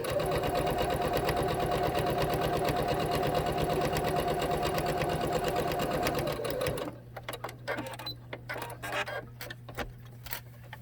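A sewing machine runs steadily while top stitching a homemade cloth face mask, a loud continuous rapid whir that stops near the end, leaving a low hum and scattered clicks and rustles.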